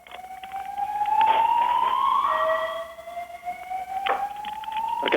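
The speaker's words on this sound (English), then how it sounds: "You can hear the sirens in the hallway." A wailing alarm siren sweeps up and down continuously, loud and reverberant through an indoor hallway of the Pentagon on 9/11, with a second tone layered in partway through.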